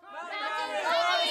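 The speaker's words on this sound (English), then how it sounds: "Start cheering now." Children cheer together at an elementary church camp event, a swelling chorus of high excited voices that grows louder over a second or so.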